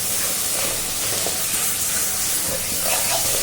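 Cashew, yogurt and Kashmiri chili paste sizzles and hisses steadily in a hot pan while being stirred for dahi katla, a continuous loud frying sound with no talk.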